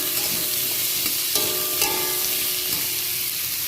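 Cut potatoes and onions fry in a pan with a continuous close sizzle, broken by stirring scrapes and a brief metallic ring partway through.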